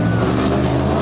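Stock class tuff truck racing at Bloomsburg: a loud, steady engine roar with thick low harmonics, held for a second without pause, with a faint trace of voice underneath.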